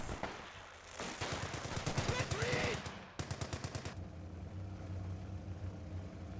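Rapid machine-gun bursts rattle in a fast, even rhythm from a Company of Heroes 2 match, a long volley then a shorter one, over a low engine-like rumble with faint talk underneath.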